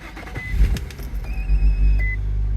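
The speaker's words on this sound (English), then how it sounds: "We'll start her up." A 2007 Infiniti M35X cranks and starts, its low engine rumble settling into a steady idle beneath a few short electronic chimes from the cabin.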